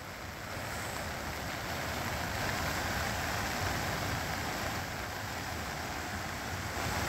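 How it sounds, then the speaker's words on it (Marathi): A flooded Son river in the Satpuda hills, swollen after continuous heavy rain, pours past in a steady, loud broadband rush of churning water with no break, mixed with some wind noise on the microphone. "सततच्या या पावसामुळे सातपुड्यातील सोन नदीला मोठा पूर आला"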